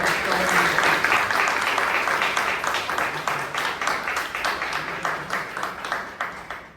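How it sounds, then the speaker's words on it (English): A room full of people at a Toastmasters club meeting in Bangalore claps steadily for the Toastmaster and role speakers, dense and close at first, then thinning into scattered separate claps before fading out. "a round of applause for Toastmaster Sheep and all the role speakers as well"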